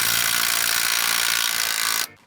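An impact wrench fitted with the right socket runs in one loud, steady, buzzing burst for about two seconds, then cuts off abruptly.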